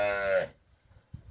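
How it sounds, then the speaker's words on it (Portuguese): A single cow lets out one loud, close moo on a cattle farm in Campina Grande, Paraíba, fading quickly into quiet with faint rustling afterward. "Essa daqui e aquelas três ali são filhas do Triunfo, né? Que é o nosso touro aqui."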